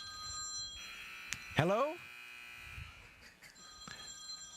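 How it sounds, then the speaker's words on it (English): A telephone rings faintly in the background of a women's college basketball broadcast with a steady electronic tone while someone nearby speaks briefly, then the ringing continues softly. "Whose phone is ringing?"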